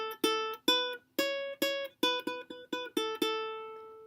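Ukulele picking a riff, about a dozen plucked single notes in a steady rhythm, several repeated in pairs, bright and close, with the last note left to ring out and no talking.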